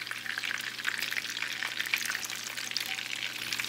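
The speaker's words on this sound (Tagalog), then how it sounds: "Pag pinirito mo, lalagyan mo siya ng brown sugar." Banana and pineapple egg rolls frying in hot oil with brown sugar give a loud, steady, close crackling sizzle with no voices.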